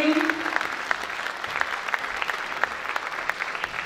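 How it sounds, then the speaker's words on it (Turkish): A concert audience applauds to welcome a choir conductor back to the stage, producing a steady, moderately loud patter of clapping with a few sharper claps standing out and a brief voice at the very start. "koro şefimiz Sayın Hüseyin Yücebağ da güçlü alkışlarınızla bir kez daha huzurlarınıza davet ediyorum"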